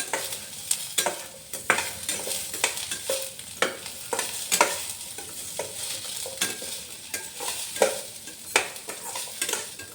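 Chopped onions sautéing in hot oil for a Tamil diet recipe, with a steady sizzle broken by repeated sharp scrapes and clinks of a spoon stirring the pan, close and fairly loud throughout.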